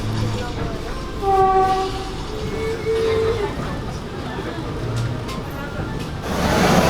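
The Vande Bharat Express 2.0, train 22440, rolls into New Delhi station with a steady rumbling rail drone, brief tonal horn-like notes and rising hiss near the end, heard from inside the train.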